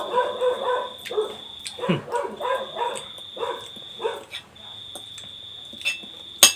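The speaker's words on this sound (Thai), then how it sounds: "เสียงสุนัขเนี่ยครับ เห่าดีครับ" A dog barks repeatedly in quick bursts close by, mixed with voices talking and a faint steady high tone in the background.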